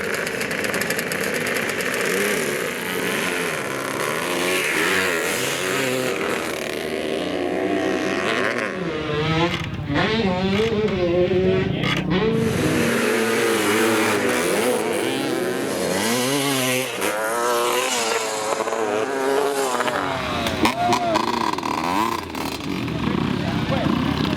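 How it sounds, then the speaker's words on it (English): Several vintage motorcycle engines roar and rev as bikes race past on a small floodlit track at Glen Helen Raceway, their pitch rising and falling repeatedly, with a voice talking over the racing noise. "bikes and riders of all sizes raced around this small floodlit track"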